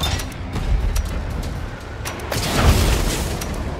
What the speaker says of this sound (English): The cannon rig is perfect for when you need a long-range laser.